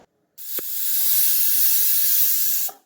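A pressure cooker whistles once while palak paneer rice cooks inside, giving a loud, steady hiss of escaping steam that runs for about two seconds and then cuts off, with a faint click before it starts.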